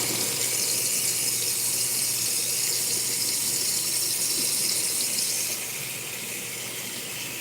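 Tap water runs steadily into a sink during a bathroom routine of showering and brushing teeth, a continuous close hiss that eases slightly near the end, with no talking.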